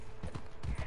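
Horse hooves clip-clopping in Red Dead Redemption, a few quick soft hoof beats in two short pairs, fairly quiet and close.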